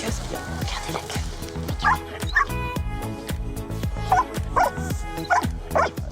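A search dog working on a task gives several short yips and barks in bursts, close by, spread across the clip with some background movement and music-like tones.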